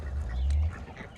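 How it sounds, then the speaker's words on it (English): Ducks quacking at close range during a morning feeding among poultry, a short burst of calls with low bird noise underneath. "what are you doing out here, Jimmy, with these ducks"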